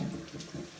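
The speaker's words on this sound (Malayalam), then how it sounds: "ടാപ്പ് ആ സൈഡിലോട്ട് തിരിക്കാം" Cold water runs steadily from a turned-on tap, poured over a black stone Shiva lingam in a brief, close, continuous splashing flow with no talk.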